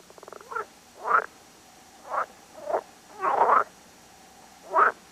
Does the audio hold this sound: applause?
no